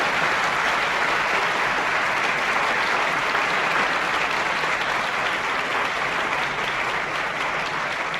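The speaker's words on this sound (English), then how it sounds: "So that was a live performance, it sounded. The applauding at the end." Sustained applause from a crowd at the end of a live performance, dense and even clapping that holds steady throughout without any talking.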